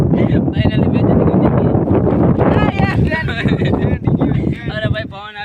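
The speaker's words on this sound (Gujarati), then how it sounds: "અરે ભાઈ પવન આવી ગયો." Outdoor wind buffets a phone microphone during an ice cream challenge, a loud, continuous rumbling roar that stays strong throughout, with voices talking through it.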